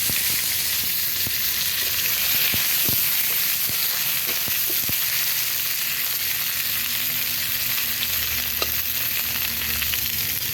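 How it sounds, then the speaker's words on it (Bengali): Pointed gourd slices fry in hot oil left over from fish in a home kitchen pan, a loud, continuous, close sizzle with occasional sharp pops and stirring knocks. "পটল ভাজাটা বসিয়ে দিই।"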